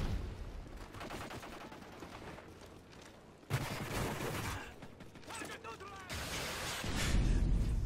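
Call of Duty: Modern Warfare 3 gunfire crackles in bursts among clanking game effects, the mix shifting abruptly as the action changes, with no one speaking.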